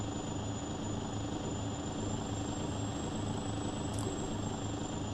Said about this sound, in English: I can hear a big airplane.